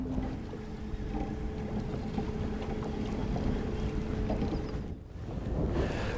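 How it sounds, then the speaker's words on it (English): Wind gusts across open water from a boat while fishing for ice-out smallmouth bass, a constant rough buffeting rush that briefly eases before picking up again. "Well, that wind picked up again."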